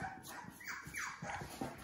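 Labrador puppies bark and yip in a playroom, with several short, fairly close barks and small whimpers scattered across the moment, and no talking.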